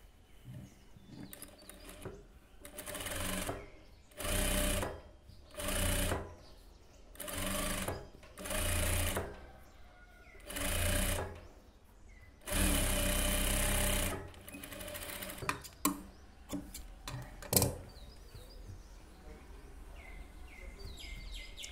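Tailor's sewing machine stitching a side seam on a blouse, running in about eight short bursts of steady whirring separated by pauses, then a few quick clicks and handling noises near the end, fairly quiet and close.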